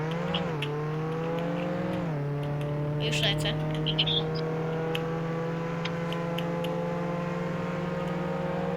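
A police service car in a Roblox Jailbreak roleplay game drives with a steady engine drone, pitching up briefly near the start and again around two seconds, then holding a constant hum; a person speaks briefly over it.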